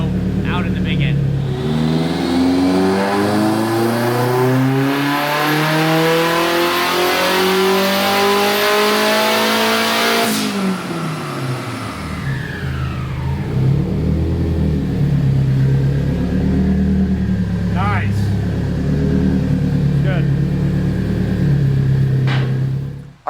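A turbocharged SR20 engine in an old-school Datsun 510 roars loudly through a dyno pull, its pitch climbing steadily to a peak, then dropping off and settling into a rough idle, with a few brief voices near the end.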